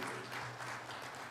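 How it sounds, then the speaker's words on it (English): An audience at a book launch in Pune applauds to welcome a guest, a thick, even wash of clapping from many hands heard throughout, with a faint voice murmuring underneath. "Can we have a round of applause to welcome him?"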